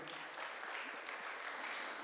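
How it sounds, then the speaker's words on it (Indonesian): Brief, faint applause from a church congregation during a worship service, a soft, diffuse patter of clapping heard from a distance. "Kasih tepuk tangan buat Tuhan"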